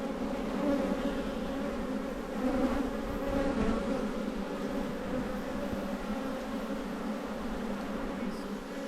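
Honey bees swarm and buzz around an open hive, a dense steady hum that carries on alone at moderate volume throughout.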